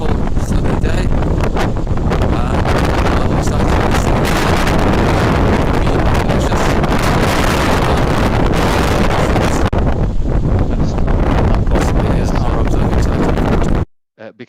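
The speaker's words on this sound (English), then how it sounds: "you can't hear a word I'm saying, because it's so windy" Strong, relentless gusts of wind batter the microphone on a sunny, exposed site in Patagonia, producing a loud continuous roar and rumble that swamps everything else until it cuts off abruptly at the end.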